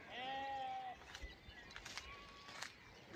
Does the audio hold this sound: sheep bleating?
yes